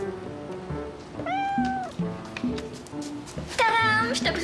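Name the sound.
cat meowing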